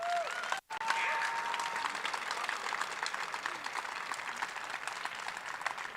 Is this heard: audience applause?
yes